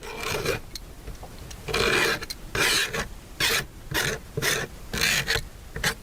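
A knife edge scrapes jagged edges off a 5-gallon plastic bucket in a series of close, rasping strokes with short pauses between them.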